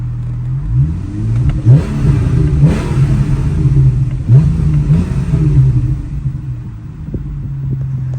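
An old Porsche engine still running its original, never-changed spark plugs revs in rumbling, uneven pulses, loud and near, with several throttle blips rising over a steady idle.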